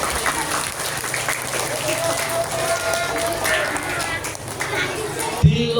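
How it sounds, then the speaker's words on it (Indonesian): A gathering of Quran school students and teachers in Pundong applauds their students, a steady wash of clapping hands with faint voices and a background hum mixed in, ending with a sudden thump. "Tepuk tangan untuk santri Pundong"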